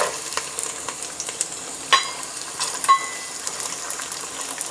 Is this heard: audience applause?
no